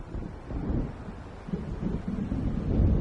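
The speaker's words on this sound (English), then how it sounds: "It seems there's a storm coming." Low thunder rolls from an approaching storm in the Alan Wake video game, a far-off rumble mixed with wind that swells and fades without any voices.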